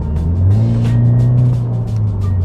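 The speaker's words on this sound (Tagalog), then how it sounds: "Gusto ko yung exhaust sound niya," A 2013 Toyota 86 fitted with an HKS exhaust revs close by, giving a loud, steady low exhaust drone that rises slightly and holds.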